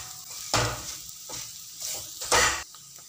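Potatoes and paneer being mashed in a pan, heard as a few short scraping, squishing bursts spaced unevenly with quiet gaps between, fairly soft and close.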